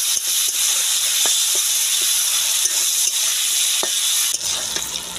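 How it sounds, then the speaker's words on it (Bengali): Turmeric-and-salt-rubbed dried ribbonfish frying in plenty of hot oil, a loud continuous sizzle and hiss with occasional stirring scrapes and small pops. "একটু বেশি করে তেল দিয়ে মাছটা ভালো করে ভেজে নেব।"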